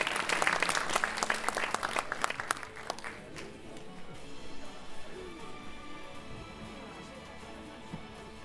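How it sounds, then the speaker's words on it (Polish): An audience at a sports gala applauds, dense loud clapping that thins out and fades after a few seconds into scattered claps and quiet room noise. "Jak najbardziej, brawa się należą, tak?"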